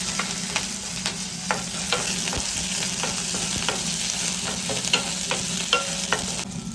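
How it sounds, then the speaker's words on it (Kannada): Four or five green chilies fry with garlic in a pan, giving a steady close-up sizzle broken by regular clicks of a spatula stirring. "ಒಂದು 4 ಇಂದ 5 ಮೆಣಸಿನ್ಕಾಯಿ ತೊಗೊಳ್ಳಿ. ಇದನ್ನು ಸ್ವಲ್ಪ ಫ್ರೈ ಮಾಡ್ಕೊಳ್ಳಿ."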